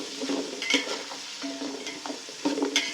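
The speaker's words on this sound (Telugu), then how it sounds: "5 పచ్చిమిర్చి కట్ చేసుకొని వేసుకుంటున్నానండి. ఇవి బాగా ఫ్రై అవ్వనివ్వాలండి." Chopped green chillies fry in oil, giving a constant soft sizzle under repeated stirring taps and scrapes of a spoon on the pan, close and fairly clear.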